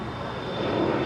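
Jet airliner at Los Angeles International Airport, a brief steady engine rumble and hiss at moderate distance, rising slightly in loudness near the end.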